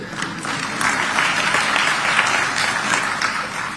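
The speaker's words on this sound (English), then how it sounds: "I believe, Josepha, you'll clap for me on that one." Sustained audience applause fills a hall during a Kenyan government address on the African Union's Agenda 2063, a steady, dense wash of many hands clapping at moderate distance without a break.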